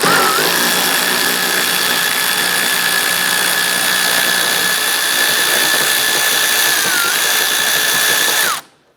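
A power tool, likely an impact driver or ratchet, loosening a 10mm bolt behind the grille corner and headlight bracket on a 2011-2018 Ram 1500, runs as one steady loud whine for about eight seconds before stopping abruptly.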